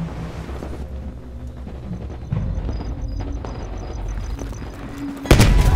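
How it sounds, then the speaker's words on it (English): Gunfire in a Call of Duty: Black Ops Cold War campaign firefight, a few muffled distant bursts and thuds under game ambience, ending in a loud close blast. "you followed the road right toward the sound of gunfire"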